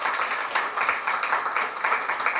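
An audience at a press conference applauds, a dense, steady patter of many hands clapping for a couple of seconds.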